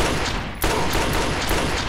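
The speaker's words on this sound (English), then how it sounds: "Shoot the guy!" Gunfire in Fallout 3, a rapid volley of loud shots after a brief lull, with evenly spaced cracks over a dense background of noise.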